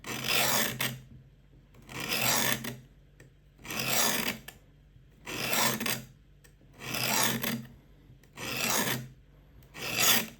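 A Work Sharp Guided Field Sharpener abrading a knife blade at a 20-degree angle: seven steady, evenly spaced rasping strokes, each about a second long, with brief pauses between them, close and clear with no talk.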